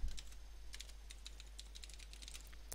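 Typing on a computer keyboard while writing in Microsoft Word, a quiet run of light, irregular key clicks, close by and alone.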